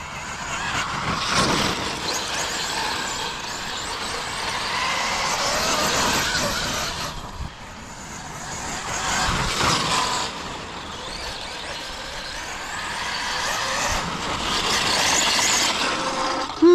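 Heavily upgraded Arrma K8 RC monster truck running and bashing through mud, its electric motor and drivetrain whirring and clattering in continuous bursts with surges around two, six, nine and fifteen seconds, fairly close and without talk.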